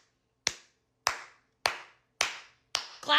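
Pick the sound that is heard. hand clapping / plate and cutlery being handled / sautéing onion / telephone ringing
hand clapping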